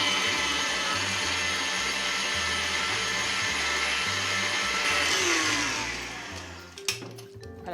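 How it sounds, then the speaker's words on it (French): A kitchen mixer whirs steadily as it beats mascarpone with lemon juice, a loud continuous motor drone with a pulsing low throb, changing pitch near the end before a few clunks as it slows. "Je vais continuer à battre les ingrédients."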